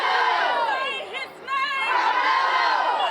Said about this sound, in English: Supporters poured out of the courthouse cheering and gathered on the steps chanting Karmelo Anthony's name